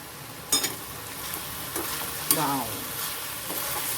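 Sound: stirring greens with grated coconut in pan

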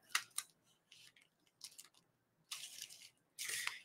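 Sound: cutting craft material with scissors along a marked line

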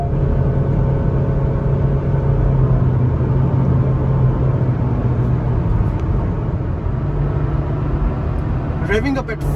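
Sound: Honda City car engine at high speed, about 4000 RPM

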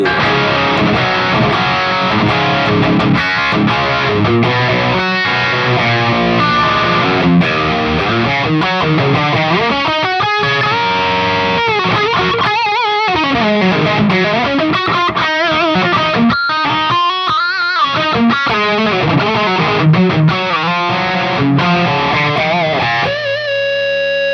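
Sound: electric guitar through Mooer GE-250 Friedman BE-100 amp model

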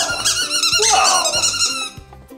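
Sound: dog chewing squeaky toy balls

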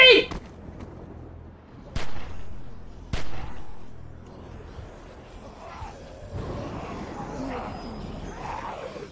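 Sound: gunshots in video game The Walking Dead

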